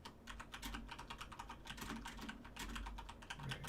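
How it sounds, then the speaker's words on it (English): Rapid typing on a computer keyboard, with steady, dense clicks of keys continuing throughout at close range with no talking. "Right, I'm typing to them."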